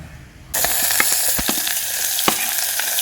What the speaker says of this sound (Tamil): பக்கத்தில் கனவா தாளிக்கிறதுக்கு சட்டி வைக்கிறேன்.